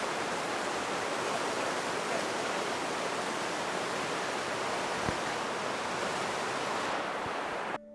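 A Colorado waterfall pours in a steady, dense rush of falling water, close and loud, holding an even roar throughout before cutting off abruptly near the end.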